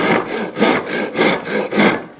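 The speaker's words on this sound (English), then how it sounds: "We also have rasps, different types of rasps here that can be used as well." A rasp is worked over a wooden guitar body in steady back-and-forth strokes, five rough, loud scraping passes in an even rhythm, heard close up with no talking.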